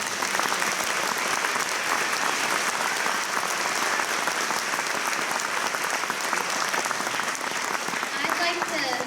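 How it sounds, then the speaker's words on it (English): Loud, dense audience applause fills the whole stretch for the backstage crew and directors after a youth stage production of Annie Jr., a steady wash of many hands clapping with crowd noise beneath. "So if you guys could give a round of applause for them,"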